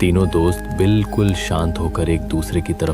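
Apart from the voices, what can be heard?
None of the usual background noises is heard.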